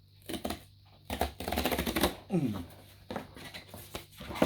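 A Nike Dunk Low Sequoia sneaker box is opened with sharp cardboard clicks, taps and a rasping slide of the lid, broken into short bursts, while a person talks quietly in between.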